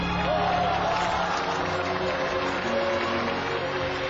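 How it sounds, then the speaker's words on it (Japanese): Loud crowd roar fills an arena after a kendo match win, a dense continuous swell of cheering and clapping with speech mixed in over it. "場内からは大歓声が巻き起こる。"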